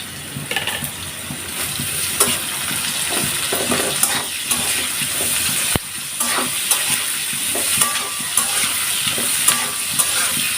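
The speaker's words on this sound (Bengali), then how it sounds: "পেঁয়াজ মরিচ দিয়ে আমি এভাবে আর একটু আলুটা ভেজে নিব হালকা পরিমাণ" Potatoes fry with onion and chilli in a pan, a steady sizzle broken by frequent scraping and stirring knocks from a spatula, close and lively throughout.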